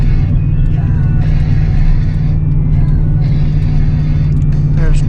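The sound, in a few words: 8.1 gas V8 truck engine towing uphill, downshifted to first gear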